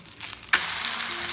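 Roti cooking on a pan over a medium flame, a soft sizzle that jumps to a brighter, steadier hiss halfway through the brief moment, close and alone.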